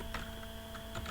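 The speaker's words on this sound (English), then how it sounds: "and typing telnet" Keys on a computer keyboard are tapped as a telnet command is typed at a command prompt, a few light, quick clicks over a steady background hiss with no talking.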